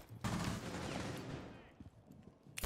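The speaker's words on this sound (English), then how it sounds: "Gunfire, I was concerned." Video game gunfire erupts in a loud, dense burst of shots that tapers off into scattered fainter pops and a final sharp crack at the end.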